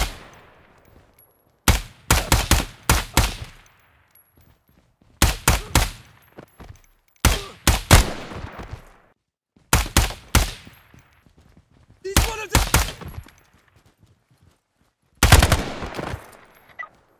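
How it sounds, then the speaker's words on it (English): Gunfire from the tactical shooter game Ground Branch comes as six separate loud bursts of rapid automatic shots, evenly spaced with short silent gaps between them. "I'm under fire! They're shooting at me!"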